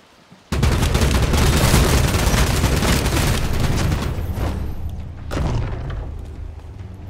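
A single loud sniper rifle blast in the video game Bloodhunt, followed by a long, noisy roll of booming echo and a second, weaker thump a few seconds later.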